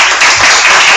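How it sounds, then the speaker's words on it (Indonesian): A classroom of students claps together in a short, loud, dense burst of applause. "Tepuk tangan untuk semuanya."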